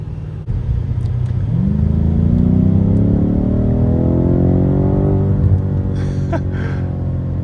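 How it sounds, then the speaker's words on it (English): A BMW F90 M5 Competition V8 revs hard while accelerating in third gear, its loud engine note climbing steadily in pitch for several seconds before leveling off, close and dominant with no talk over it. "It revs pretty high actually."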